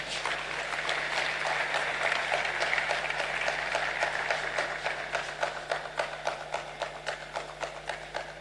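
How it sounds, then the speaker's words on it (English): Sustained applause from an audience, dense clapping that gradually thins into more distinct, rhythmic claps toward the end, with a faint steady hum beneath. "please do keep the applause going for Professor Mauto"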